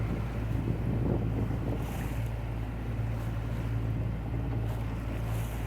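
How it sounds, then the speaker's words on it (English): Sailboat under sail with the motor off on rough open water between Martinique and Dominica: steady wind rushing over the microphone, water washing along the hull and a constant low rumble, with no voices. "Got the motor off and sailing."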